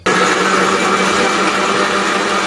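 A blender mixing milk with mass gainer runs as a loud, steady, close whir without a break from start to finish, and no one speaks over it.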